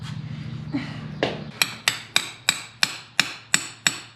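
Bread is tapped with a hammer into a Torx-head part of a 2004 Mustang GT: a few soft knocks, then about nine sharp, evenly spaced metallic taps, close and loud, with no talking.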